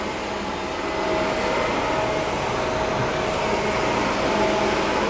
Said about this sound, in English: I like to vacuum behind them, show them what they're leaving behind.